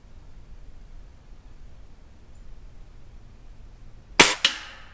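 Hatsan 95 .25 calibre air rifle fired once near the end, a sharp close crack with a quick echoing tail, after several seconds of quiet outdoor background.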